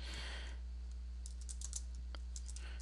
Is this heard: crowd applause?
no